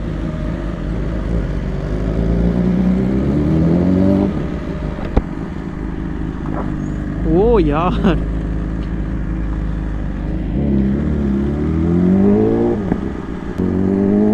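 A BMW S1000RR M Sport motorcycle is ridden and revved, its engine note climbing and falling in several swells with a sharp high rev burst midway, while a rider talks over the riding noise.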